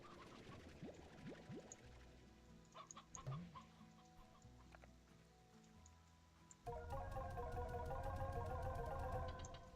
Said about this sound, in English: Let's try and collect as many of these hens as we can.